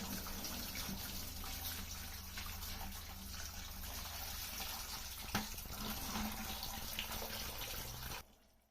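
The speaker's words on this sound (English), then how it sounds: "Draining coolant is always a disaster." Coolant draining from a Honda Civic: a steady splashing stream of liquid pours continuously at moderate level, with one sharp knock midway, then stops abruptly near the end.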